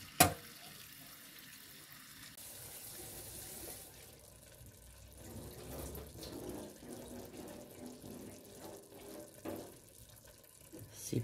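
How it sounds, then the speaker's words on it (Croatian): Cold tap water runs over frozen peas in a kitchen sink, a faint steady splashing stream with small clinks and a sharp knock at the start and end. "Preko smrznutog graška puštam hladnu vodu da se led otopi."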